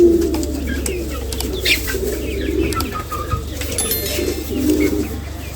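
Pigeons coo repeatedly in soft, low rolling calls amid steady background rumble, with occasional faint chirps and flutter.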